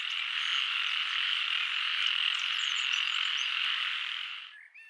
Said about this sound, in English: I never thought frogs make such a big noise.